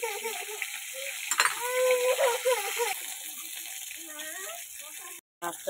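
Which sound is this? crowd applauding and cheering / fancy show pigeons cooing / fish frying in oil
fish frying in oil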